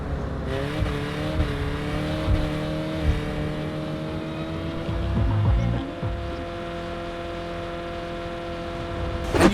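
Car engine in the Saints Row video game, a droning motor that climbs in pitch through a few gears as it accelerates, steady and moderately loud with a brief dip near the end.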